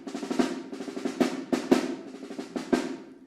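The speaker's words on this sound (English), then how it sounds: "This is the sound of the snare drum." Sharp, crisp drum hits strike in an uneven pattern, each with a bright rattling snap that decays quickly, played alone with no voices.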